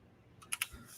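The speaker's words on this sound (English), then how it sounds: "Let's just type that in." A few quick keystrokes tapped on a computer keyboard, faint and close, in a short burst of three or four clicks over a quiet background.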